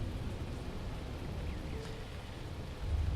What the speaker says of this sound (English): it is still raining